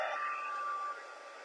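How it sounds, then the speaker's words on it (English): A craft heat tool blows steadily while drying stamped ink, a constant hairdryer-like whoosh that stays close and even before easing slightly softer near the end, with no talking. "And then this is where I'm going to bring the heat tool in."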